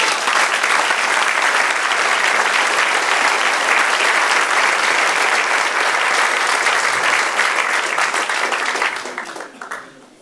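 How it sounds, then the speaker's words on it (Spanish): A church congregation applauds the Lord in a sustained, loud burst of clapping from a large crowd that holds steady for about nine seconds, then fades away near the end. "Denle un aplauso al Señor."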